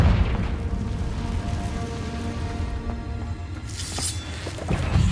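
A Confringo spell explosion in the video game Hogwarts Legacy, a heavy booming blast with a rumbling low tail, followed by a brighter shattering crackle toward the end.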